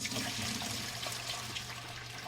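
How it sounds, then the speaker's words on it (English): Star San sanitizer liquid is poured out of a homebrewing vessel in a steady, loud rushing and splashing stream that lasts throughout, with no talk. "So what we're going to do is we're just going to dump the sanitizer out."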